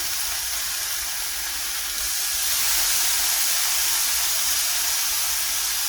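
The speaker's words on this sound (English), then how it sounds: "Put our bacon in the pan." Bacon strips sizzling in a pan for a bacon cheeseburger, a loud steady hiss that swells slightly partway through and holds without a break.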